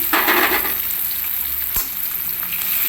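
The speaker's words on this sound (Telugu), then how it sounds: "వేసి కాస్త ఫ్రై అవ్వనిద్దాం" Dry red chillies fry in hot oil in a pan alongside green chillies and salt for rice flour upma, giving a loud steady sizzle with a brief clink of a utensil partway through.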